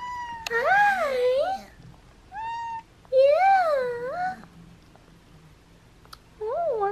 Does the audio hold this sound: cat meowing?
yes